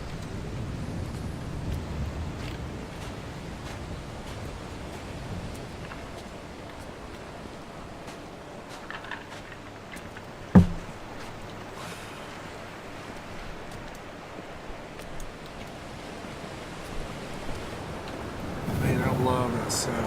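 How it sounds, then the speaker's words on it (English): Coastal ocean waves roll steadily in Dear Esther, a continuous soft wash of surf mixed with wind noise, with one brief sharp knock midway and a swell of louder surf near the end; no voices. "The sounds of the waves at the coast."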